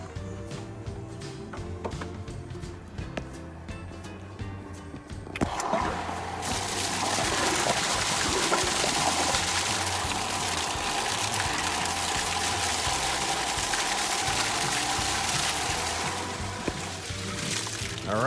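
Pool filter pump running on rinse after backwash, starting with a sudden switch-on and then a loud, steady rush of flowing water that continues unbroken, close by with no talking.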